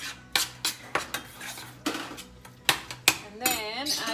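Leftover meat stirred around in a pan, with repeated scraping and clinking of a utensil against the metal in an uneven rhythm, close and fairly loud, plus a few brief sounds that could be a voice.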